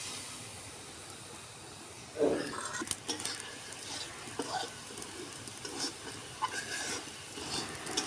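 Spices stir-fried in a wok for a spicy soyabean curry, a spatula scraping and stirring with soft sizzling; a sharper burst of clatter near the start, then steady light scraping strokes, close and moderately quiet with no talk.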